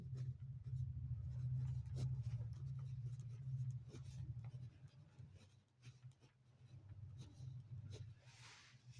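Chalk or marker writing on a board during a Class 9 maths lesson, a close scratchy scraping in short strokes and taps over a low steady hum, with no talking.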